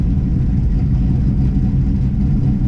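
A Chevrolet Camaro Z28 engine runs steadily close by, a continuous low rumble at a slightly high idle with no rise or fall and no voices.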